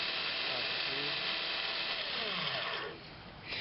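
A drill bit sharpener runs with a steady high buzzing grind as a drill bit is sharpened, close and continuous, dipping briefly near the end, while a person talks over it.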